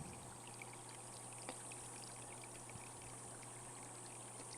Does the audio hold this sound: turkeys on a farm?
no